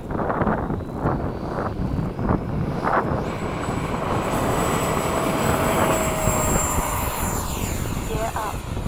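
An E-flite 80mm F/A-18D radio-controlled ducted-fan jet takes off at a flying field just before a storm, its whine rising and climbing in pitch while wind buffets the microphone and a voice talks nearby.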